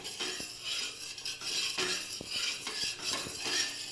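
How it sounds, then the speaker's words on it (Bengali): A metal spatula scrapes and knocks around the edge of a gola ruti flatbread in a pan: continuous close-up metallic scraping with irregular taps against the pan and a faint sizzle beneath. "আমি খুন্তি দিয়ে চাড়িয়ে দিলাম"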